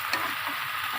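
Okra frying in a pan sizzles with a soft, even hiss while a utensil gives one quick scrape as it stirs, close by and brief.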